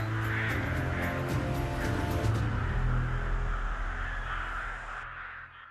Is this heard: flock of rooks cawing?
yes